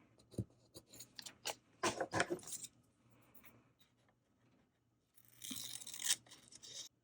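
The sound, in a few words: cutting paper for a junk journal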